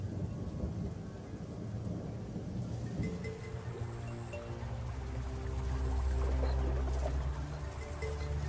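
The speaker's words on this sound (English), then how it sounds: "the rains came, and the drought was broken at last." Rain falls with low, rolling thunder as a drought breaks in the African wild. The deep rumble swells in the second half under a steady hiss of rainfall, and no one speaks.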